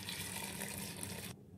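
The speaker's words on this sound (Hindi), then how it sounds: "अब इसमें हम पानी डालेंगे" Water poured into a pressure cooker holding lentils, rice and daliya: a steady close splashing rush that runs for over a second, then cuts off abruptly.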